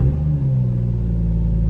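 A BMW M140i engine running just after a push-button start, with a steady low rumble at close range that stays even and unbroken.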